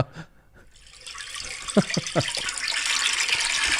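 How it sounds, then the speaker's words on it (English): A toilet flushes with a surge of rushing, gurgling water that swells after a few faint knocks and keeps roaring steadily to the end, fairly close and loud. "That's a toilet being flushed."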